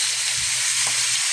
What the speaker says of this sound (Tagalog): Prito-prito tayo ng matambaka.